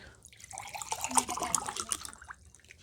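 Water sloshes and trickles into a glass, a short close splashing pour with light dripping, with faint room noise behind it.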